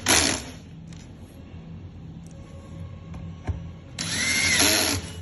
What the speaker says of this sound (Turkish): matkap ya da bir şarjlı matkaptan yardım alırsanız işiniz çok daha kolaylaşır